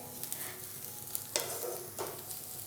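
Coconut masala sautéed in a pan gives a soft, steady frying hiss with two or three brief spatula scrapes over a short moment.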